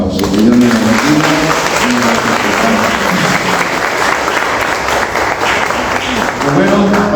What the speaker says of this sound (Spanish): que hoy lo recibimos también a ella con un fuerte aplauso.